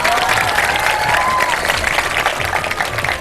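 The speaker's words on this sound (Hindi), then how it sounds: "पूरी ऑडियंस अपने लिए एक दफा तालियां बजाते हैं" A television studio audience at a Ramadan sehri show claps loudly and continuously, a dense, even wash of applause with a few faint cheers mixed in.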